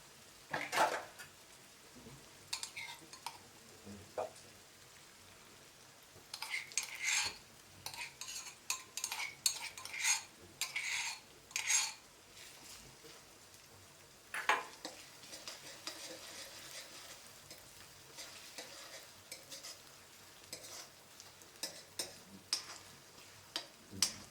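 Onions sauté gently in a pan with ginger, chili and garlic paste over low heat. Soft sizzling is broken by intermittent stirring scrapes and utensil taps against the pot, all fairly quiet and close.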